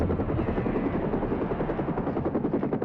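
An enemy helicopter in the Tomorrow Never Dies video game gives off a continuous rotor chop, a loud and steady thudding drone with a rapid pulse throughout and no voices.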